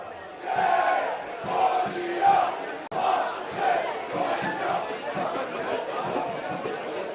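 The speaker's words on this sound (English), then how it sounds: "The crowd's back involved now." A football stadium crowd at an NPLM Victoria match between Oakleigh Cannons and Preston Lions roars and chants in waves, rising and falling across the stands, with a brief cut partway through.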